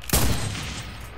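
One loud, close burst of gunfire from a machine gun in a video game, with a sharp attack followed by a booming tail that slowly fades over about a second.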